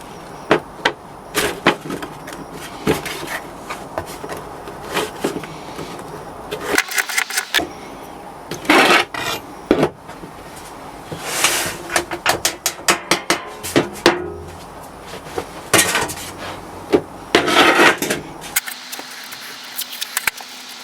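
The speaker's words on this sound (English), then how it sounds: "I just scrape off the excess and get it nice and flat on the top" Casting powder compacted in a metal flask being scraped flat to remove the excess, heard as irregular scraping strokes and sharp clinks up close, with brief pauses between bursts.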